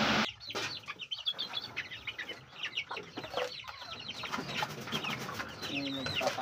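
Backyard chickens in cages cluck and chatter in a busy, fairly faint mix of bird calls, with a voice speaking in the background.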